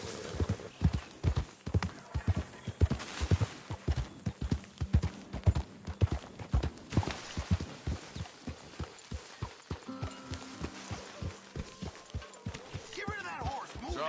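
Horse hooves clip-clopping in a steady, rapid rhythm at close range in a Western cowboy setting, with a voice heard briefly over the hoofbeats.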